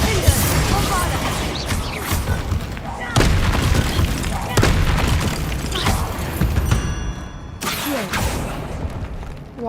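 Spell blasts from Confringo and Bombarda in Hogwarts Legacy burst out as several loud, booming explosions, sharp hits near the three-, four-and-a-half- and seven-and-a-half-second marks over a dense, rumbling game soundscape, with a voice speaking among them.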